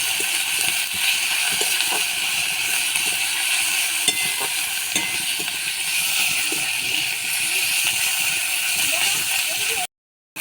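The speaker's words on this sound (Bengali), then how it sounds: "লবণ দিয়ে টমেটোটা ভেজে নেব।" Chopped tomato and capsicum fry with salt in hot oil in a pan for a homemade cabbage dish, a steady close sizzle with faint stirring scrapes, cutting out just before the end.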